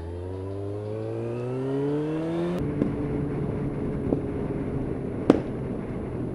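A loud motorcycle engine revs up close in a rising whine, then drops into a rough idle punctuated by several sharp, gunshot-like backfire bangs.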